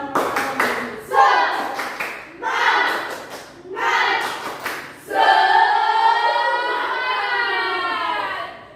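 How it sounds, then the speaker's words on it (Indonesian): A school class performs the rhythmic spirit clap, several patterned bursts of group clapping with short pauses between them, followed by children chanting together in unison. "Sekarang kita tepuk semangat dulu ya. Tepuk semangat."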